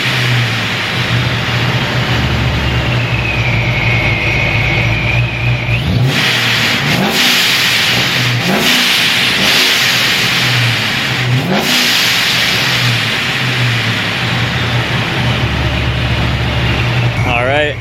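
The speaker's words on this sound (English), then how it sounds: "I hope you enjoyed the big red blow-off valve noises" A revving car engine, close by, with repeated sharp hissing bursts of a Procharger Big Red turbo blow-off valve between throttle blips, heard from about 10 feet, loud and continuous.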